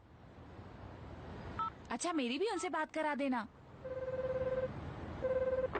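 Cartoon telephone call in a Shinchan Hindi episode: a short speech line, then steady repeated ringback tones in two bursts, clear and mid-loud.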